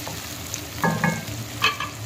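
Chopped onions sauté in a pan for chicken curry under a soft, steady sizzle, with a few brief scraping stirs. There is no talking.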